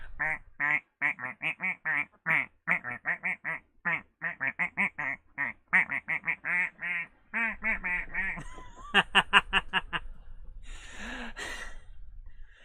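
A techno duck quacking effect from a Halo Combat Evolved live stream: a steady, rapid train of close, loud electronic quacks, ending in a breathy noisy burst near the close.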